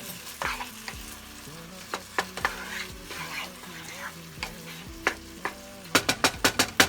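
Spoon stirring tomato paste into taco spaghetti in a pot, a soft sizzle running under repeated scraping strokes, ending in a quick series of sharp clinks against the pot.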